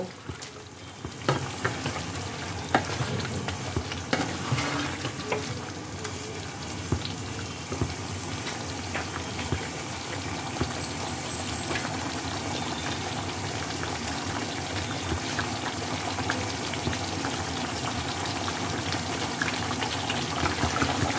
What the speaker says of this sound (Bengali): কাজু বাদাম পেস্টটা দিয়ে এটাকেও আবার 2-3 মিনিট ভালোভাবে কুক করে নেব।